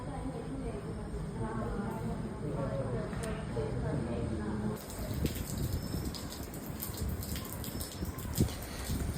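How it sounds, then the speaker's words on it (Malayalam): Steady rain falls with a dense, hissing patter that grows rougher and more splashy halfway through, continuing throughout. "ഇന്നത്തെ ദിവസം മുഴുവൻ മഴയാണ്"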